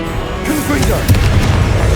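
A Confringo fire spell blasts in Hogwarts Legacy, a loud, dense burst of rumbling impact that fills the whole two seconds without pause.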